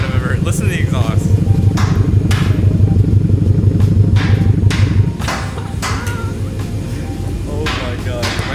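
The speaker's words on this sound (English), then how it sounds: "Listen to the exhaust." Loud, close exhaust drone from a Subaru BRZ fitted with a JDL UEL header, front pipe and Tomei 80R, a steady rumbling idle with clattery pulses throughout, easing slightly partway, while people talk over it.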